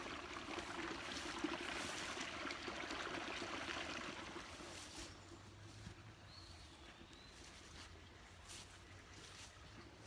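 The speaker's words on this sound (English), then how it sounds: "But there's a beautiful brook." A babbling woodland brook flowing steadily, a soft continuous rush and trickle of water at moderate distance, with a faint bird call briefly over it.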